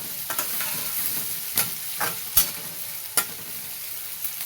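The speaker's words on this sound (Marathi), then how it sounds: "चांगलं परतून घ्यायचं कांद्याचं कलर चेंज होईपर्यंत" Onion sautéing in a pan for an okra stir-fry, with a close, steady sizzle broken by several sharp scrapes and knocks as it is stirred.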